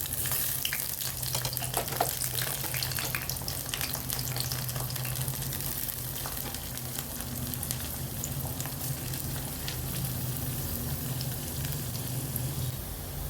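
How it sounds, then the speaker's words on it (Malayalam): Half an onion frying in coconut oil for a coconut chutney, giving a steady, close, crackling sizzle that runs throughout with no talking. "ആവശ്യത്തിനുള്ള വെളിച്ചെണ്ണ ഒഴിച്ച് കൊടുത്തു കേട്ടോ. എന്നിട്ട് ഇതേ ഒരു സവാളയുടെ പകുതി ഇട്ടിട്ടുണ്ട്."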